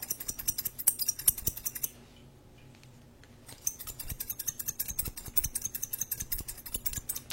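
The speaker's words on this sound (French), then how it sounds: "La paire de ciseaux noirs, elle fait ce bruit là" Quick repeated snips of scissors, close and crisp, in two bursts separated by a brief quiet pause.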